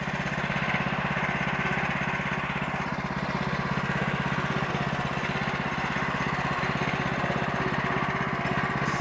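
A Woodland Mills HM130 portable sawmill takes a thin veneer cut through a log. Its engine drones steadily and loudly throughout under the blade's rasp, with no talk.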